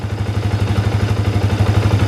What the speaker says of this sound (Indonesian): ini adalah suara idle dari motor saya yang sudah menggunakan silver clutch